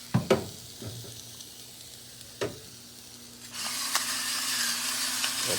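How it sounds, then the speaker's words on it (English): Onions frying and caramelizing in a pan with salt and pepper, a steady close sizzle that swells louder partway through, dotted with a few sharp utensil knocks and stirring scrapes. "while those onions are caramelizing, I chop these peppers up a little bit finer"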